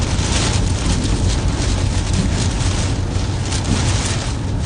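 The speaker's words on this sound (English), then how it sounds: "Wind is definitely starting to pick up." Strong storm winds gusting at 60 to 70 mph near Jenison, Michigan, heard as a loud, constant roar and buffeting that blasts over the microphone without a break, with no voices audible.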